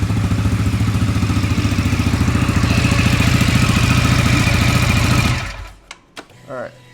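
A CFMOTO motorcycle engine that had been blown up, now restarted, idles a little high with a rapid, even chugging pulse close by for about five seconds before shutting off, leaving brief clicks.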